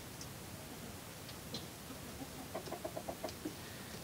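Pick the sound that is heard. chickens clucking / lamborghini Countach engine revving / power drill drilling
chickens clucking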